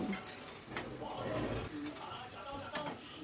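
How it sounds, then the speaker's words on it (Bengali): Okra and chili powder mixture stirred in a pan, soft scraping and light clinks of a utensil against metal with a faint sizzle underneath, quiet and close. "আবার সব কিছু ভালো করে মিশিয়ে নিচ্ছি"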